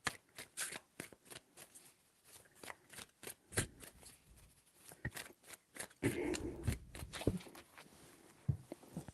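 Tarot cards are shuffled by hand in quick bursts of crisp riffling and tapping, with short pauses between rounds and a denser, louder shuffle toward the end, close and quiet with no talk.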